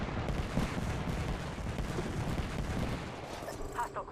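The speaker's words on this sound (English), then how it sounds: "Knuckle cluster's firing" A knuckle cluster weapon fires in a video game as a dense rumbling barrage of blasts and impacts, steady and fairly loud, with game voices faintly mixed in.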